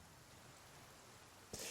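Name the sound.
rain in the video game The Flame in the Flood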